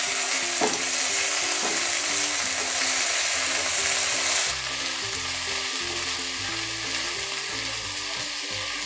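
Meat sizzles in hot oil with chopped ginger and garlic, a steady loud frying hiss that runs throughout, and the tone shifts midway as the pan changes.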